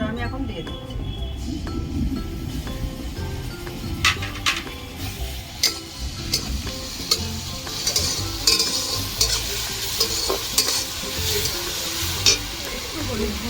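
Ginger, garlic and green chili paste hits fried onions in a pan for a country chicken curry, giving a steady close sizzle broken by repeated spoon stirs and scrapes, with a voice speaking over it at times.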